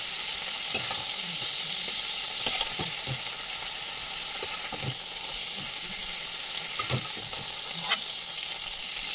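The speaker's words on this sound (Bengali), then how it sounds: "মাছটাকে হালকা করে ভেজে আমি তুলে নিচ্ছি।" Prawns or fish frying lightly in oil in a pan for a prawn malai curry give a steady close sizzle, with soft stirring scrapes and a few sharp taps scattered throughout.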